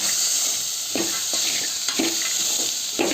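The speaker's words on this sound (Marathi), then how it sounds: "ते पातेलं गरम झाले त्याच्यामध्ये आता आपण टाकून घेतलेली आहे डाळ" Lentils for puran poli stirred in a hot pot, a constant hiss and sizzle with repeated scraping strokes of a spoon against the metal at a steady pace, close and alone.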